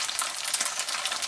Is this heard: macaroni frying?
yes